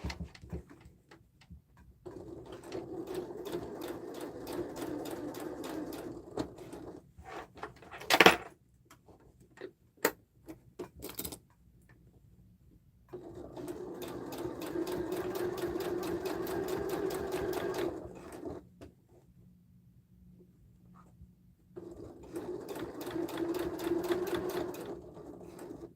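A domestic sewing machine stitching a sling bag with a lengthened stitch runs in three long bursts of steady rapid needle clatter, separated by pauses with small handling clicks and knocks, close and fairly loud.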